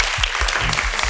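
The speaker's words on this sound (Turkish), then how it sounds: "Alkışlıyoruz beyefendiyi." A studio audience on a Turkish late-night talk show applauds: steady, dense clapping throughout a short burst, loud and close, with no talk over it.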